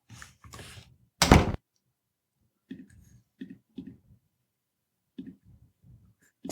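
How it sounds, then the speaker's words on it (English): Door closing sound effect played in a Scratch game project, a sharp, loud thunk standing alone among quieter clicks and soft mouse-like taps. "Start sound, door closing."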